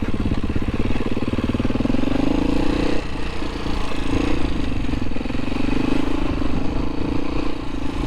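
Beta 500 motorcycle engine while riding a trail loop, a loud, steady close-up thrum with a brief dip in revs midway before pulling on, no talk.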